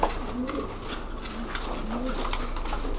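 Many racing pigeons coo together in a loft while gathering straw for nests, a dense, continuous murmur of soft throaty calls close by with faint pattering movement.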